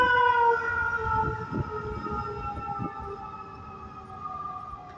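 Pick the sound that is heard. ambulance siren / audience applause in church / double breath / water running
ambulance siren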